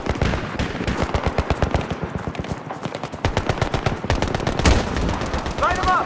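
Dense bursts of automatic gunfire in a video game battle between Marines and Russian forces, rapid rhythmic shots rattling loudly throughout, with voices calling out over the shooting.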